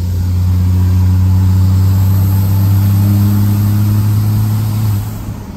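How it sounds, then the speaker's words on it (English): A built truck's engine idles steadily through an MBRP six-inch muffler, a deep, even, mellow exhaust drone that stays close and moderately loud, with no talk, and eases off slightly at the end. "It's got a muffler on it, too. I like that it's not too loud."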